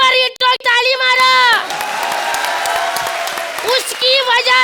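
A studio audience at a comedy show claps and cheers, a sustained burst of applause in the middle framed by loud talk and exclamations before and after.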